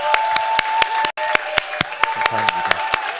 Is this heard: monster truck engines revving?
no